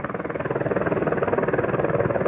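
A military helicopter hovers directly overhead above a city neighborhood, its steady rotor chop loud and continuous throughout, with no talking.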